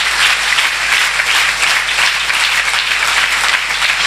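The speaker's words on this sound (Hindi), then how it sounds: "आप यहाँ तालियां बजा रहे हैं" Audience clapping at a Christian prayer meeting, a loud, continuous wash of many hands clapping together with no voices standing out.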